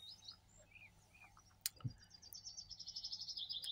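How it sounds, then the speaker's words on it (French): Birds sing outdoors in the morning, faint and somewhat distant: scattered high chirps and short warbles, a brief knock midway, then a quick repeated twittering phrase building toward the end over a quiet background. "Je vous laisse un peu écouter les oiseaux."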